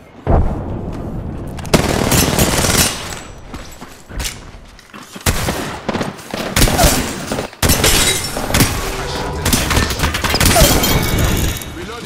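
Gunfire in the video game Apex Legends, with bursts of rapid shots and loud broadband cracks throughout, mixed with game effects and voices talking over the action.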